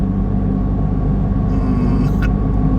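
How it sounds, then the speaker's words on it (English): Inside a Volkswagen XL1 economy car, the engine drones loud and steady at close range, a dense low rumble with brief higher whines near the end as the driver accelerates. "It's a bit noisy in here, but let's give some gas"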